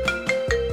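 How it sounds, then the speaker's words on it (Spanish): A mobile phone ringtone plays as a repeating electronic melody of short tonal beeps over a steady tone, close and fairly loud, with no voices. "Espera, que suena el móvil."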